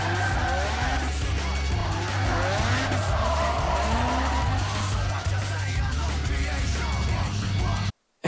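Veilside Mazda RX-7 with mostly treadless rear tires drifting in a film scene: a steady engine drone with continuous tire squeal and skidding, loud and close, over music, ending abruptly in silence.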